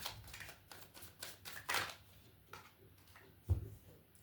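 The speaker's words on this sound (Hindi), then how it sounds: "एक लास्ट शफल।" Tarot cards being shuffled by hand, a soft riffling flutter in short bursts with a louder tap near the end, quiet and close with no speech.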